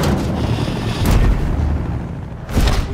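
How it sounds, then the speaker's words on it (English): Heavy sound-effect gunfire for the massive cannon of the AMP suit, a giant walking combat mech: loud booming blasts that hit about a second apart, each with a broad low-end thump and a rumbling tail, no voices. "the amp suit has to sound like the most massive cannon you ever"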